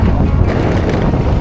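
Strong wind roars and buffets the microphone on a remote road from Imugan to Kayapa, Nueva Vizcaya, a dense continuous rumble with no voices.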